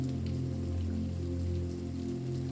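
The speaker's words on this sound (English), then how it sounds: "the rhythmic splats of raindrops on the windows" Steady rain patters and splats against window glass on a stormy night at a bell tower, a continuous even wash of drops with a low droning hum beneath, no voices.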